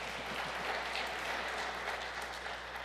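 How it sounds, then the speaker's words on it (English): A congregation applauding during a worship service at a church marking its 201st anniversary, a steady, soft wash of many hands clapping, heard from a distance under a low constant hum. "we can clap during prayers"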